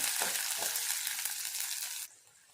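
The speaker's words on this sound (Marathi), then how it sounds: "कांदा हा कांदा आपला छानपैकी ते तेलामध्ये परतून घ्यायचा आहे" Onion fries in oil over medium heat for kanda poha, a dense close sizzle with light stirring that drops off abruptly near the end.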